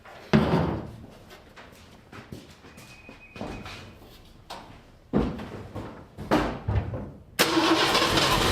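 A 1952 Ford engine cranks in several uneven bursts, whirring and sputtering with pauses between attempts, before catching into a louder, sustained run at the end.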